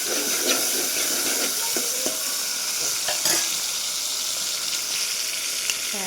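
A tomato fries in a hot pan at a home kitchen stove, giving a steady loud sizzle broken by occasional stirring scrapes, with no talking.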